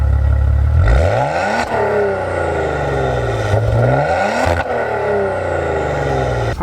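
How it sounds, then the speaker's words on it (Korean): Maserati Ghibli GranSport with a gasoline V6, its exhaust revving loud and close, with rising and falling engine pitch through several throttle blips and a rough, throaty drone throughout. "마세라티가 배기음이 유명하니까 6기통 가솔린 중에서는 이제 마세라티가 제일 배기음이 좋다고 생각을"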